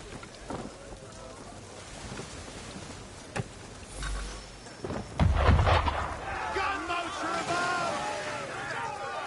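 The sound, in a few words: cannon fire at a ship in video game Assassin's Creed 3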